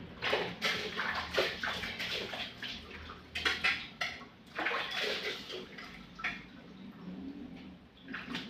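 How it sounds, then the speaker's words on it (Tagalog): A strong flow of running water gushes and splashes at close range with an uneven, surging rhythm, and faint bird calls sound behind it. "Ay, laka ng tubig."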